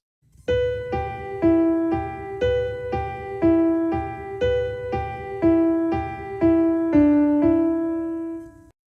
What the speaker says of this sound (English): a legato playing sounds like this.